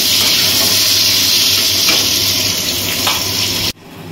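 Potatoes fry in hot oil for potala korma, a steady loud sizzle and hiss with faint stirring clicks, running continuously until it cuts off abruptly near the end.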